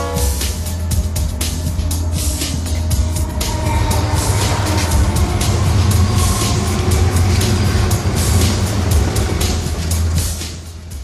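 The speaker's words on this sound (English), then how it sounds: "Kids, look there. It is a train." A long train rolls past close by, a loud, steady rumble of wheels with rhythmic clacks over the rails that holds for about eleven seconds and eases slightly at the end.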